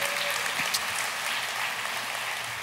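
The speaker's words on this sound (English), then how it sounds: "You can clap for that." Church congregation applauding, a steady wash of clapping at moderate level throughout with faint voices mixed in.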